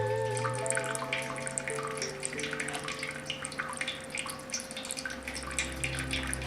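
Spirit from a whisky stripping run trickles and drips steadily into a bucket, a continuous close splashing patter with a constant hum of equipment underneath and no talk.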